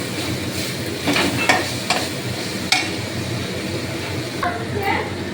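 Cauliflower curry seasoned with cumin powder and garam masala is stirred in a pan over a low background sizzle. A spoon scrapes against the pan in short, irregular strokes.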